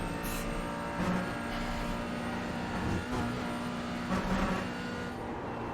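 A McLaren GT4 race car engine in the iRacing sim at VIR, droning steadily and loudly at high revs with slight rises and dips as the car works through corners.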